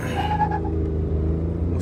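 Tata Nexon 1.2-litre cars, a 2023 and a 2022 model, launch in a drag race with wheel spin, making a loud, close, steady engine drone with a brief rising whine at the start and no speech.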